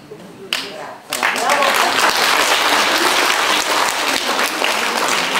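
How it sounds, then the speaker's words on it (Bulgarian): Audience applause at a concert as performers bow, starting after a short quiet moment with a brief voice, then a full, even burst of clapping from a crowd that holds steady to the end. "Те изчакаха, за да си получат аплодисментите, за да се поклонят."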